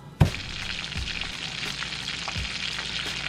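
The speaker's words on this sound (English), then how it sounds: "bring it over to the pan, which is already buttered up, so you don't need more butter. And if you hear a sizzle," Steady frying sizzle from a grilled cheese sandwich in a hot buttered pan, starting with a sudden loud hiss and continuing as a constant crackle with small pops.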